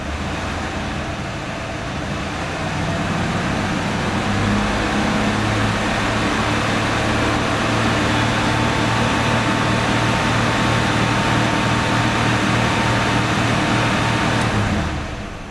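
A 1980s AMC car engine rises from idle to a sustained 2400 rpm during engine computer diagnosis, holding a steady hum for several seconds before dropping off at the end.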